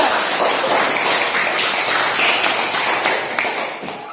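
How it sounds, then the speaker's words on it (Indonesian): Classroom students clap for a presenting group during a biology lesson, a close, loud, choppy burst of many hands that tapers off toward the end. "tepuk tangan untuk kelompok 2"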